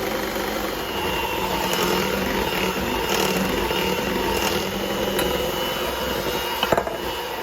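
An electric mixer runs steadily through coffee cake batter of sour cream, chocolate chips and walnuts as flour is added, giving a continuous close whirring drone with a few faint knocks near the end.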